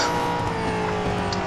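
Holden Commodore ZB Supercars race car braking at Bathurst in Real Racing 3: a loud, steady engine drone with layered tonal whine and road noise, continuous for the whole moment.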